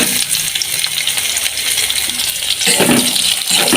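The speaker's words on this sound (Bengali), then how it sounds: "আগে থেকে আমি পেঁয়াজ কুচিটা এই তেলের মধ্যে দিয়ে দেবো" Chopped onions, five of them, dropped into hot oil in a pan: a loud, steady hissing sizzle that fills the whole stretch, swelling slightly as they settle in.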